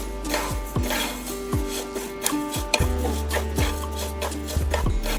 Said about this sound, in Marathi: तीळही छान चटचट होईपर्यंत छान भाजून घ्यायचे आहेत आपल्याला.